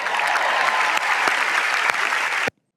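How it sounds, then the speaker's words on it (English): Audience applause at a speakers' conference, AI-generated: dense, steady clapping from a large crowd for about two and a half seconds, with a few sharper claps standing out, then cutting off abruptly to silence. "And then the audience applause."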